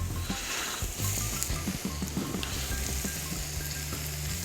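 Raw mussels cooking down with onions in a hot pan, giving a loud, continuous close-up sizzle with scattered crackles and light scraping, no voices over it.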